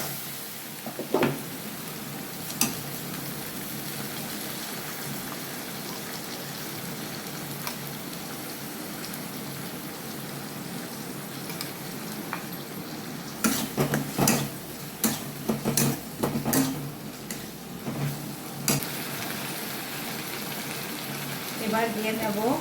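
Onion paste, ground in a mixer, frying in a pan for a Bengali home recipe, a steady soft sizzle throughout with scattered clinks and scraping bursts of stirring toward the end, no talk.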